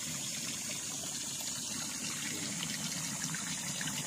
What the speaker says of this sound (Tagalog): Tuloy-tuloy yung agos ng tubig kahit tag-init.